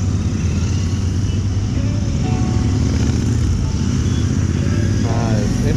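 Royal Enfield Interceptor and Continental GT 650 motorcycles on a group ride, a steady loud engine drone with wind rush throughout, faint voices over it.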